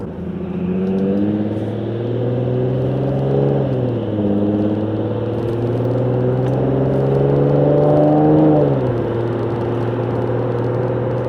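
Infiniti G37 sedan fitted with a Motordyne Shockwave catback exhaust drives along with a steady, smooth exhaust drone that dips and climbs as revs shift, heard from inside the cabin with no talking.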